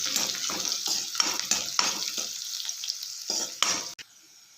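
Green chillies, curry leaves and garlic frying in a pan, stirred with repeated scraping strokes over a steady sizzle, the stirring rhythmic and close before stopping abruptly.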